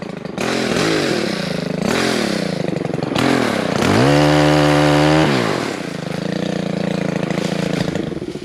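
An MTL XCT track loader mulching under big oak trees runs with a carburetor in need of cleaning. Its engine buzzes loudly and unevenly, surging and sagging, then holds a steady, strained roar for about a second before dropping back.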